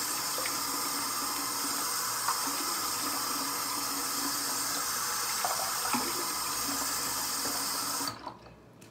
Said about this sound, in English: Don't just leave the water running.